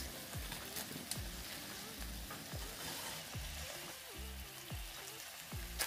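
Chicken pieces frying in a pot for fajitas, a close, constant crackling sizzle broken by regular splattery bursts, sounding almost like rain on a surface.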